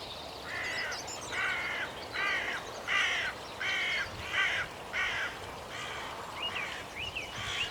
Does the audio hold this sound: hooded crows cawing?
yes